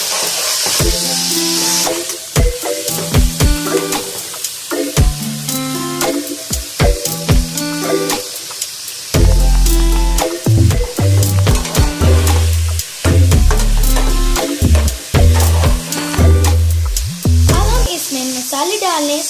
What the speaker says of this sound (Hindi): अब हम इसमें टमाटर और हरी मिर्च ऐड करेंगे। इसको अच्छे तरीके से भून लेंगे।